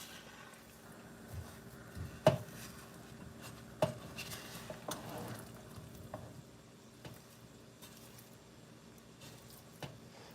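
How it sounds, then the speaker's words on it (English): A spoon stirs blackberry jam bubbling in a pot, with a soft steady sizzle and occasional sharp scrapes and taps against the pot sides, fairly quiet and close, no talking. "so I'm just giving it a stir."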